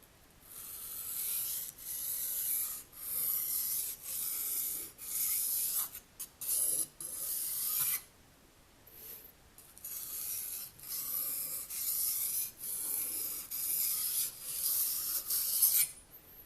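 A knife blade is drawn repeatedly across a sharpening surface in steady, close, raspy strokes, with a brief pause midway before the rhythmic scraping resumes.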